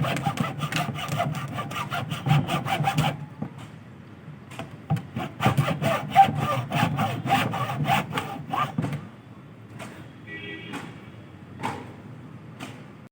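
Hand blade sawing through an old plastic drum, a steady rapid back-and-forth rasp of strokes that pauses briefly, resumes, then thins into lighter scraping near the end; close and loud, no talking.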